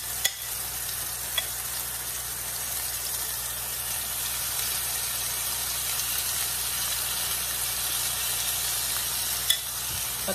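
Chicken sizzles steadily in a hot pan, a constant crackling hiss with a couple of faint clinks.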